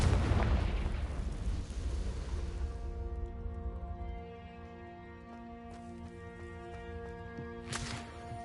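Confringo spell explosion in Hogwarts Legacy, a deep blast rumbling for a few seconds before fading, then giving way to quiet sustained tones with a few faint clicks.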